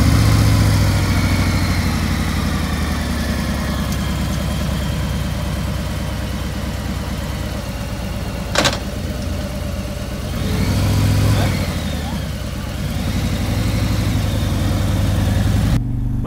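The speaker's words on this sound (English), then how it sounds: "everything I thought about riding a Tri-Glide, three-wheeled motorcycle, is wrong" A Harley-Davidson Tri-Glide Ultra three-wheeled motorcycle rumbles steadily while riding, a loud continuous low engine drone with a sharp click partway and a swell of revving before settling back.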